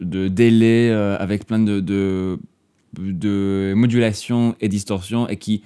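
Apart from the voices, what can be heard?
No everyday noises stand out.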